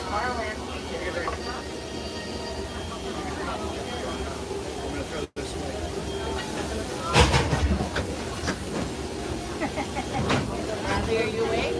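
Disneyland Railroad excursion train ride, a steady rumble and rattle of the rolling cars with a brief break midway and louder clanks and squeals later, under ongoing speech and crowd chatter.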